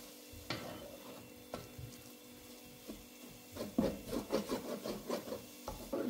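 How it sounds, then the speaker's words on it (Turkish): Flour being stirred and roasted in a pan for mushroom soup, heard as quiet rubbing and scraping strokes that quicken into a rhythmic series of close rasping stirs toward the end, no voices. "Ben şöyle güzelce karıştırarak birazcık kavuruyorum."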